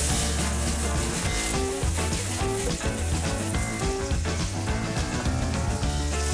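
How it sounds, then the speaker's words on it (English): Butter sizzling and frying steadily in a hot frying pan on a hob, a dense continuous crackle with faint stirring, close and fairly loud throughout. "Frying pan on the hob. We add some butter."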